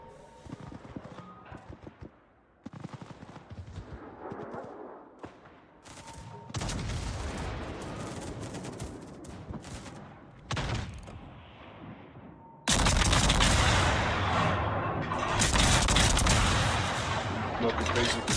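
Warship naval guns fire in World of Warships, with several heavy, booming salvos and rumbling blasts spread across the stretch and a loud sustained barrage near the end, while players talk between the shots.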